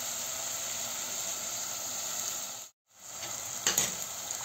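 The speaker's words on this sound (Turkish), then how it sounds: "Şimdi soğanımız iyice kavrulsun, kızarsın." Onions frying in hot oil in a pan, a steady bright sizzle throughout, briefly cutting out before resuming with a small clatter of stirring.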